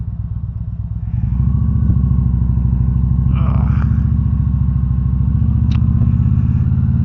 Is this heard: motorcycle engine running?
yes